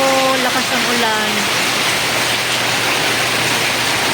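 Heavy rain pours in a dense, loud, continuous roar, with a voice heard briefly at the very start.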